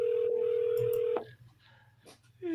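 A telephone rings with a steady tone for about a second, then breaks off, and faint speech-like sounds follow on the line.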